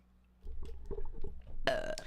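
A single person burps loudly and close, a drawn-out guttural belch that grows raspier toward the end, following a brief quiet moment.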